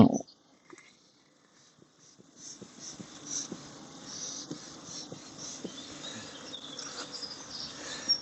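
Honey bees buzzing around an opened Kenyan top-bar hive being smoked, a faint, thin hum that builds slowly after a short quiet stretch, with scattered soft knocks.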